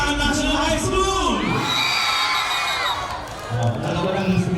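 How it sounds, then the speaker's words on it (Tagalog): Students from the participating schools at a street dancing competition shout and cheer together, loud whoops and yells rising over a busy crowd, with a voice talking through it. "Dalawa lang yung sumigaw."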